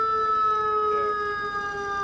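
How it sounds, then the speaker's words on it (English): A steady ambulance siren tone holds throughout, fairly loud against a low rumble of downtown Chicago street traffic, with no one speaking. "that's just the ambulance."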